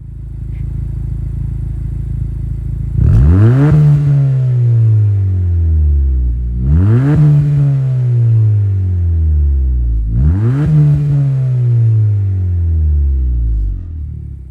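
A 2024 Honda Civic Si's 1.5-liter inline-four revs three times in a row through a dual exhaust, each rev rising sharply then falling back to a deep, close idle rumble.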